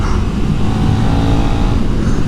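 KTM 1390 Super Duke R Evo motorcycle accelerating hard, a loud, steady broadband engine roar with wind rush that holds strong throughout, close and continuous with no talk.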